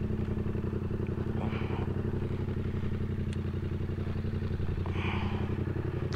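A Yamaha MT-07 motorcycle engine runs with a steady, even throb up close, loud and constant throughout, with no voices.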